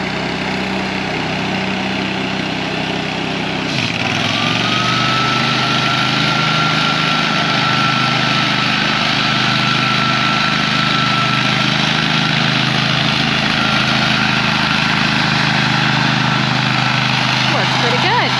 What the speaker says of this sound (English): get all the leaves and work them this way with the hand blower